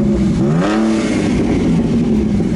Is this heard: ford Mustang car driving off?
yes